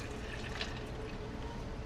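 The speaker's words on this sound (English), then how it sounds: "We're going to pour this jello right in there." Liquid pink jello pouring over ice cubes in a bowl, a steady close splashing trickle that runs evenly without a break.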